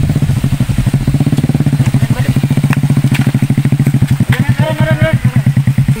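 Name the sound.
motorcycle passing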